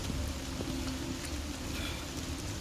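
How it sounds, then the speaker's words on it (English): Steady rain in the video game Resident Evil 4 Remake hisses continuously at moderate level, with a faint low hum underneath. "this rain is some bullshit"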